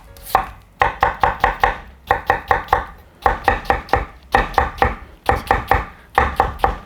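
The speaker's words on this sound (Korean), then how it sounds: "그래갖고 채를 곱게 썰 거예요" A knife thinly julienning new potatoes on a cutting board makes rapid, crisp chops in tight rhythmic bursts of four to six strokes, separated by brief pauses, loud and close with no talking.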